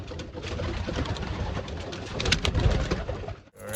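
Racing pigeons coo steadily in a loft just after returning from a flight, a dense, continuous murmur of overlapping low calls that swells slightly near the end before a brief dip.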